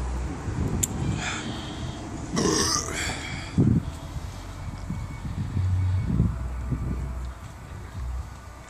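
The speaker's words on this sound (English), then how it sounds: "Get this burp out of me." A burp after chugging a 25 oz Budweiser Ice, one long, loud belch out in the open, with some wind noise on the microphone.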